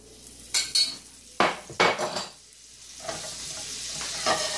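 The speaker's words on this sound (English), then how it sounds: "we're going to put a tablespoon of butter in our pan." A tablespoon of butter hits a hot preheated pan, giving a few sharp bursts of sizzle and clatter, then a steadier, softer frying hiss underneath.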